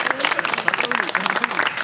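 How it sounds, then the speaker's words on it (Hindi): Audience applause in a workshop hall fills the whole moment, dense steady clapping from many hands at fairly loud level with no talk over it. "ताली तो बजाओ कृष्ण के लिए, हैं?"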